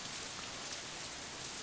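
Steady rain falls in the visual novel Katawa Shoujo, a dense, even hiss of drops on surfaces with no voices.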